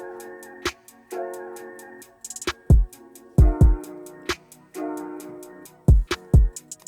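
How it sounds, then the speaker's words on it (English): A beat built in Studio One 5 with sustained synth chords and a deep kick, while a sharp snap sample with a little reverb lands on every other snare, cracking out clearly in the mix without talk. "So the first extra thing that I added to my drums was a snap."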